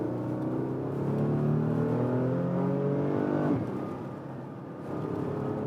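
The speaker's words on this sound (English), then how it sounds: "And the nice GTS exhaust." A 2016 Porsche Cayenne GTS twin-turbo V6 revs up with rising harmonics, then the pitch drops sharply as it shifts and the sports exhaust rumbles on steadily.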